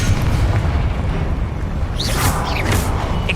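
A Confringo fire spell bursts in Hogwarts Legacy combat, a loud, steady booming rumble with crackling flares and whooshes layered over it, continuous and close throughout.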